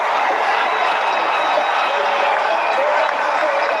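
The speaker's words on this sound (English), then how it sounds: "The roar in the crowd tell you all about that one" Huge cricket crowd at a Pakistan vs Sri Lanka match roaring after a boundary, a dense steady wash of cheering and applause filling the stadium for the whole stretch without letup.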